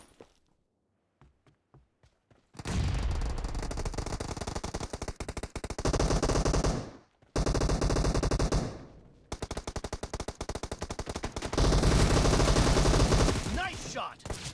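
Sustained bursts of automatic gunfire rattle loudly in a mobile shooting game team match. Several long volleys are separated by short pauses, with a few faint clicks before the shooting starts.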